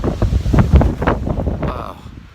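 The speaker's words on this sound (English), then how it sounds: "the wind was blowing so hard" Strong wind on a mountain trail buffets the microphone in a brief, loud, gusting roar, with a few faint vocal sounds mixed in.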